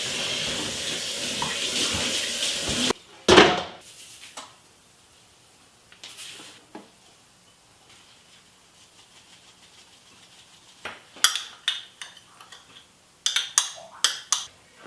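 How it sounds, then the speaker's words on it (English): Kitchen tap water runs in a steady, close hiss for about three seconds while a whole turkey is rinsed inside and out, then cuts off, leaving quiet broken by a few short clatters and splashes. "We'll rinse this bad boy inside and out."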